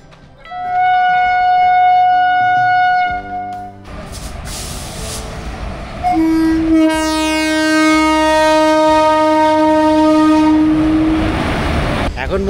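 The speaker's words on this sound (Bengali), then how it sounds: "ট্রেনটাও দাঁড়িয়ে রয়েছে।" A train waits at a railway crossing on the road toward Tarapith, its loud sustained horn blaring in long steady tones, stopping briefly and then sounding again, with engine and ambient rumble underneath.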